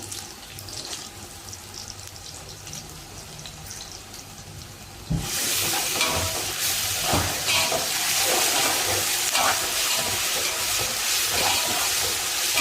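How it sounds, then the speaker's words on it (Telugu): Chicken frying in a large batch of about four kilos with ginger-garlic paste and onion paste, a loud broadband sizzle that jumps in strength partway through and then holds steady and close. "ఉల్లిపాయ పేస్ట్ అండి వెల్లుల్లి అల్లం వెల్లుల్లి పేస్ట్ అండి కొద్దిగా ఫ్రై అవ్వండి"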